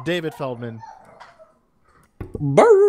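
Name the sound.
dog barking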